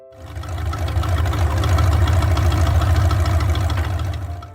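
A small farm tractor engine runs steadily, a loud low chugging rumble with a fast even pulse that swells in and stays constant before easing off at the end, with no voices.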